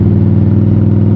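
An Indian Scout Bobber motorcycle engine drones steadily while riding, a loud, close, even hum with no change in pitch and no one talking.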